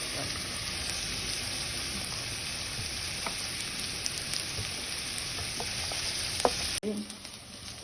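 Ginger and garlic fry in hot oil for kappa biriyani, a dense, continuous sizzle and crackle up close, ending with a sharp metallic clatter of a utensil against the pan.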